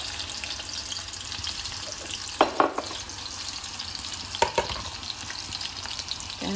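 Garlic sizzles in hot oil as tempering for a home-cooked dish, a constant close crackle with two louder bursts of splatter or stirring partway through and no talking.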